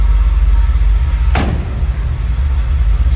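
A 1964 Ford Thunderbird convertible idles with a low, steady, close rumble throughout, broken by one sharp click or knock partway through.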